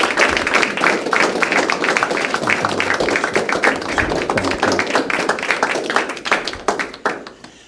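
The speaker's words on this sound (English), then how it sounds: "Let's give a round of applause for Mike." An audience at a talk on the Project 2025 threat claps for a speaker named Mike, steady dense applause that holds for several seconds before thinning into scattered claps and fading out.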